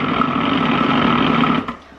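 An electric mixer whirs at a constant, loud pitch while whisking eggs into flour for pasta dough, running steadily for most of the moment before winding down and stopping.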